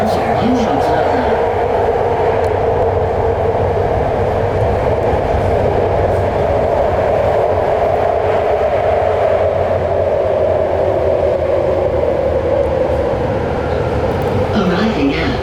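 Riding a BART subway train between stations at night, a loud, steady rumble and roar of wheels and motors fills the car, with voices heard over it.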